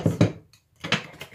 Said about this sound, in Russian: вот так мы с вами перемешиваем, встряхиваем